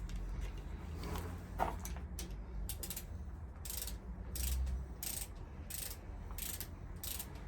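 A ratchet wrench tightening a bolt on a Ducati 999 motorcycle, a series of rapid clicking bursts in an even rhythm over a low background rumble.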